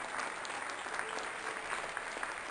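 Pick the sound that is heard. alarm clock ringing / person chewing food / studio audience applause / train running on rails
studio audience applause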